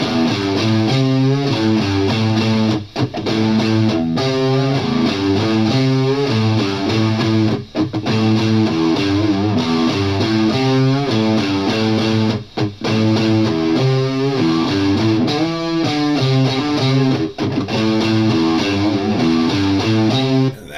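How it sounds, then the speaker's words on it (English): A heavy, distorted electric guitar riff chugs loudly in a repeating pattern, with brief gaps between phrases. "that became my guitar parts that you can hear for this guitar riff. Pretty muscular sounding."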